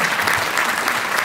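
An audience applauds at an awards gala in Hässleholm Kulturhus, a dense, steady wash of many clapping hands, loud and close throughout.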